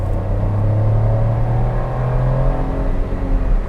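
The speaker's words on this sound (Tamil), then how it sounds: "ரோடு வந்து ஃப்ரீயாக இருக்குது. நல்லா ஃப்ளாட் அவுட் பண்ணுறேன்." Maruti Suzuki S-Presso engine pulling hard at full throttle from inside the cabin, a loud steady drone whose pitch climbs slowly as the car gains speed, with no talking.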